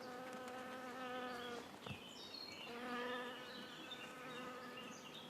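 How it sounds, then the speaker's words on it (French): Honeybees buzz steadily close by as they arrive and forage among flowers, with chestnut trees and brambles nearby; several overlapping wing drones rise and fall in pitch, loud and continuous with no talking. "nos abeilles qui viennent d'arriver sont déjà en train de rechercher ce qui va être intéressant à butiner"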